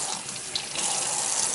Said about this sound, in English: I'm going to carefully rinse it with cold water